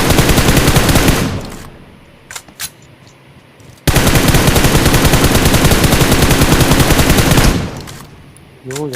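Automatic gunfire in the mobile battle-royale game BGMI, long loud bursts of rapid shots that stop, leave a quiet gap with a few isolated cracks, then resume in another sustained burst.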